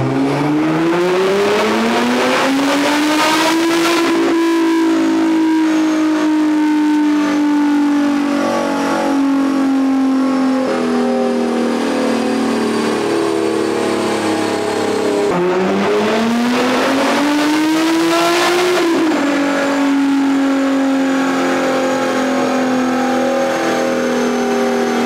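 A tuned stage 4.25 Nissan GT-R engine roars at full throttle on a dyno in fourth gear, revving steadily higher for long stretches, drops briefly, then climbs again, loud and close.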